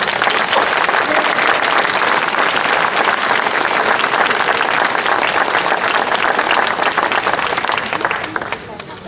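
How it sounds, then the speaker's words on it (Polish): Warm, sustained applause from a concert ceremony audience, dense and steady for the whole span before thinning slightly at the end. "a Państwa proszę o gorące brawa"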